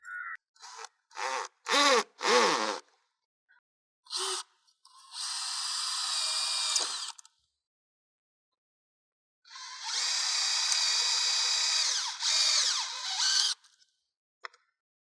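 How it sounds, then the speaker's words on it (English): A DeWalt DCD805 cordless drill fitted with a star bit drives screws into wet brick. A few short knocks and clicks come first, then two sustained, loud, close whirring runs, the second one longer with brief pitch dips under load. "the star bit so that I can drive in the screws"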